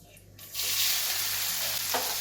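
Finely chopped onion drops into hot oil with crackling cumin and erupts into a loud, steady sizzle that holds evenly, with a brief stir scrape near the end.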